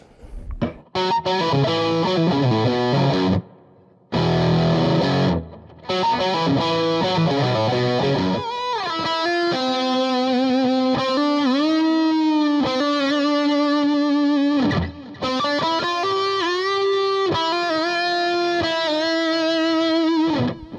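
High-gain distorted electric guitar, a Gibson Les Paul Axcess with ceramic pickups in split-coil mode, plays sustained chords and melodic runs with brief pauses, thick and saturated with a singing sustain.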